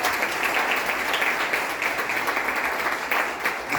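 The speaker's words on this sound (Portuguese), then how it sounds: "Seria demais pedir mais uma salva de palmas a Jesus por isso?" Church congregation applauding during a service, a thick, even wash of many hands clapping at once that holds steady for a few seconds without letting up.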